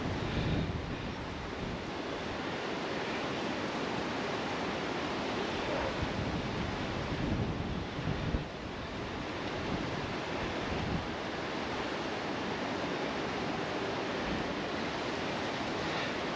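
Wind gusting across water beside a tenkara fishing spot, a steady broadband rush like surf with constant buffeting on the microphone, loud and unbroken throughout.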